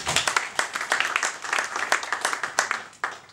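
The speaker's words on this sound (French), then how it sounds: "On applaudit Franca, merci pour sa participation." A small audience in a room claps in a dense, uneven patter of hand claps that rises and dips for a few seconds with no voices over it.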